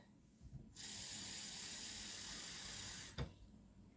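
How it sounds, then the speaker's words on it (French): Water pours steadily from a tap into a cooking pot for about two and a half seconds, a close, even rushing hiss that cuts off abruptly with a small clunk. "Je rajoute un peu d'eau."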